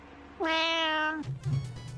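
A house cat lets out a single clear, drawn-out meow close by, followed by soft rustling and quiet room noise.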